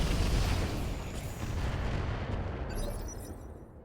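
Weapons fire in the mech combat game RogueTech, a heavy rumbling barrage of booming shots that rolls on without a break, loud and dense throughout.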